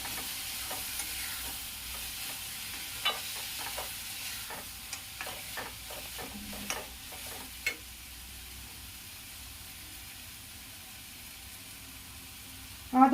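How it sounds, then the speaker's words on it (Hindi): Black chickpea curry masala frying in oil at medium flame, a soft, steady sizzle with scattered clicks of a spoon stirring the pan. "इसे लगभग मैं 5 मिनट भूनूंगी, तेल छूटने तक भूनूंगी।"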